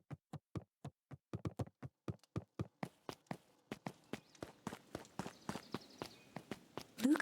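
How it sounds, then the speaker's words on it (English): A group of footsteps approaches, starting as crisp, evenly spaced steps and growing denser and busier as more walkers join, with no voices. "heard a group of footsteps approaching"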